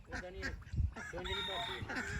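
Roosters and chickens cluck and call nearby in a rural Punjabi farmyard, with overlapping squawks and short crowing cries and a deep thump partway through.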